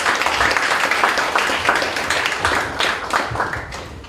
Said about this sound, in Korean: 명강의 주신 우리 한 번 더 뜨거운 박수 부탁드립니다